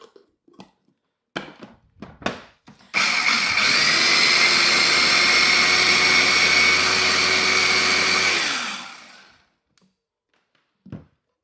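Kitchen blender whirs steadily for about five seconds while blending homemade cream cheese, loud and close with a high motor whine, bracketed by a few clunks and handling knocks before and after.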